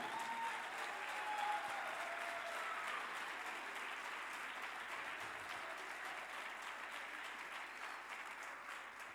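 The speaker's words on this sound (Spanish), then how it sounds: "Denle un aplauso al Señor." Sustained applause from a large church congregation, steady and dense clapping filling the space for the whole stretch, easing off slightly toward the end.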